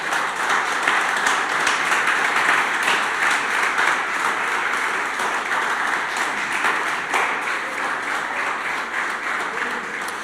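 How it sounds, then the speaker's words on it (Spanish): A church congregation applauds together, a dense continuous wash of clapping from many hands that holds steady at full strength throughout. "dale tu mejor aplauso al Señor"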